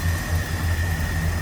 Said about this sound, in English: 350's got a nice little rumble to it